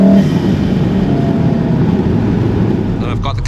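A VW MK7.5 Golf R with its 306 hp engine pulls hard on a fast drive, a steady loud engine drone with broad road and wind noise that fades slightly near the end.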